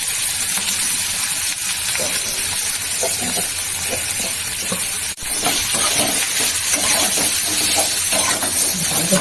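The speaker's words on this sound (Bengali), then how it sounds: "ভাজতে হবে, লাল করে ভেজে নেবো।" Onions frying in a pan for deshi-rice biryani give a steady, close sizzle with faint crackles throughout, and a brief dip in the sizzle partway through.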